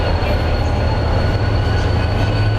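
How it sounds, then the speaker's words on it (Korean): Diesel locomotive idling at a station platform, a steady loud rumbling drone with a constant hum and no break, heard up close with no voices. "여기서부터 벌써 디젤 기관차의 우렁찬 소리가 들리네요."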